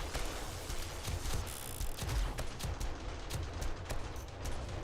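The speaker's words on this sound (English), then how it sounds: "turrets are going nuts out back." Automated turrets in the zombie survival game 7 Days to Die firing out back during a red moon horde night, a dense, continuous rattle of rapid shots at moderate distance, with no talking.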